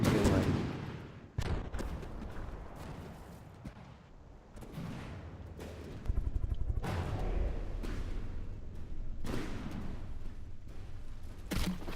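A small gun on a paddleship in a video game fires away: sharp bursts of shots and booming reports at irregular intervals, loud and close over a rumbling battle background, with occasional larger impacts.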